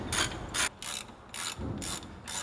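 A hand ratchet tightening brake bolts on a Nissan Patrol during a front diff and CV swap, a rapid clicking pawl in several regular strokes with brief pauses, close and clear with no talking.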